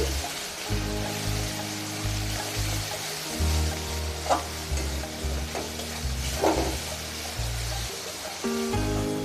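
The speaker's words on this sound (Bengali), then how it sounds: "মশলাটা সুন্দর করে কষাচ্ছি" Spice paste sizzling in a pan for a raw banana peel mash, a steady frying hiss with scraping stir strokes and a few sharp pops, a low hum running underneath.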